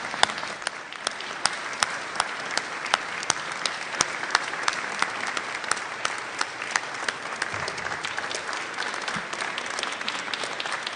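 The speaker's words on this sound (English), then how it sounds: "show your appreciation with a round of applause for the support and" Steady, dense applause from a graduation audience fills the hall, sustained clapping with sharp individual claps standing out, continuing without a break.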